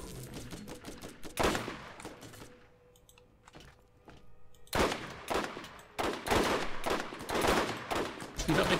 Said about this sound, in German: ich schieß die ganze Zeit auf seinen Kopf, aber ich erhalte keinen Treffer